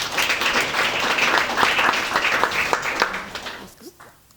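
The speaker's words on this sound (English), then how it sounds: "So let's welcome with your best cheer" Audience applause and cheering welcoming a speaker onto a conference stage, a dense sustained wash of clapping that fades out near the end.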